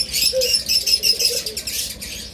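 Cockatiel in a cage, a few short chirps and squeaky calls close by over a faint background, with no one talking.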